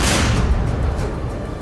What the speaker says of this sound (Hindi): इजरायल के सैनिकों ने अल शिफा अस्पताल के नीचे बनी सुरंग के अंदर से मिले गोला बारूद को गाजा की एक दूसरी सुरंग के ऊपर और अंदर बिछाया और एक जोरदार धमाका करके उड़ा दिया